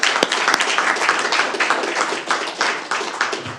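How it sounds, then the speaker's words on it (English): People at a city council meeting in Heath give a short round of applause, close, fairly loud clapping from a modest group that tapers slightly toward the end. "A round of applause to you and your team."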